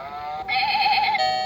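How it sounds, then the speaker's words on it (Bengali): A goat bleat plays from a baby piano play mat toy, one wavering electronic bleat held for about a second over a steady tone, close and clear. "ছাগলের ডাক।"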